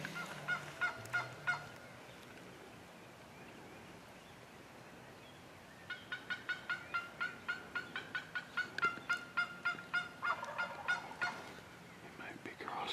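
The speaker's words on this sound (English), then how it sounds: "So we did get one tom to gobble back" A wild turkey tom gobbles during a hunt, one short rattling burst at first, then after a quiet stretch a longer run of rapid gobbling pulses, distant but clear in the open outdoors.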